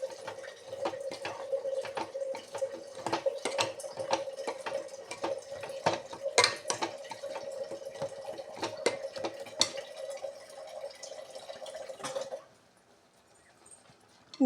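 Water runs steadily into a pan of spinach sambar in a home kitchen, a continuous trickling pour with clicks and splashes that stops abruptly near the end and leaves quiet.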